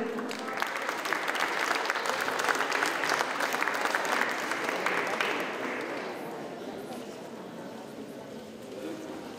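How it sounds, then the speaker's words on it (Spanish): An audience at an indigenous peoples panel event applauds, steady clapping from a crowd for several seconds, then fading to lighter scattered claps. "Un aplauso para Patricia Rivera"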